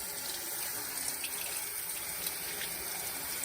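Kitchen tap water runs in a steady, soft rushing stream while poblano peppers are rinsed, with no voices.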